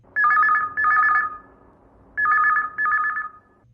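A telephone rings in two pairs of warbling electronic trills, a pause between each pair, clear and close with no talking.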